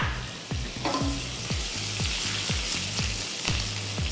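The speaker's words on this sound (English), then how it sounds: "A little jeere ka tadka. A little bit of chillies." Cumin seeds and chillies sizzle in hot oil for a jeera tadka, a steady close crackle with repeated low knocks and stirring scrapes roughly every half second throughout.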